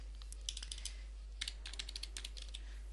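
Typing on a computer keyboard, quick bursts of light key clicks in uneven runs, close but soft, with a low steady hum underneath.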